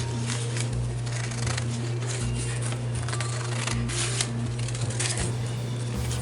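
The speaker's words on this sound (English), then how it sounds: "I'm just going to take some scissors and go across it." Repeated crisp snips and rustles of scissors cutting through paper at a quick, steady rhythm, close up over a low background hum.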